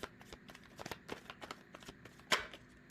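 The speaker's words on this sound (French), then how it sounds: "je tire pas, je fais sauter les cartes" Tarot cards flicked so they jump out of the deck, a quick run of soft papery snaps and riffles ending in one sharper card slap, close and quiet.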